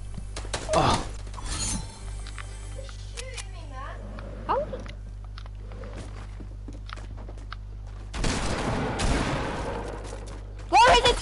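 Fortnite gunfire in short bursts: a volley near the start, scattered shots through the middle and a heavier flurry near the end, with players talking excitedly over it.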